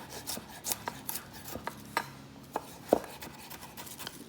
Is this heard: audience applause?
no